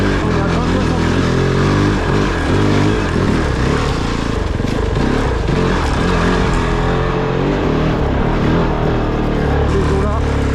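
KOVE 450 rally motorcycle on a rally stage, its engine roaring loud and close over rough terrain, with steady wind and rumble throughout and a rider's voice mixed in.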